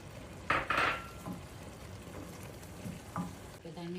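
Potatoes frying in a pan, stirred with a couple of sharp scraping clatters near the start and a faint sizzle underneath, with quieter utensil taps later and a voice briefly at the end.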